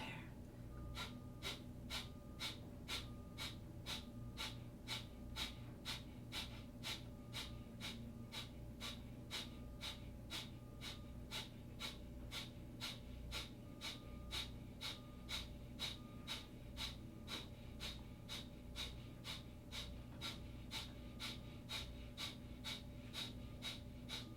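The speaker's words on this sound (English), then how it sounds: "Breath of fire." Breath of fire yoga breathing exercise: rapid, even, forceful nasal exhalations repeat at a steady quick tempo throughout, close and clear with a soft background hum.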